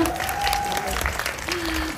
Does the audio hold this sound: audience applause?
yes